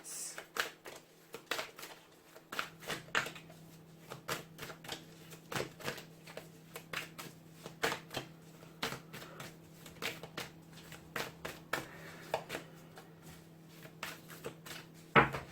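Angels and ancestors oracle cards for a Libra tarot reading are shuffled and laid out: many quick papery flicks and taps in an uneven running rhythm, close and soft, with a faint steady hum beneath and no talking.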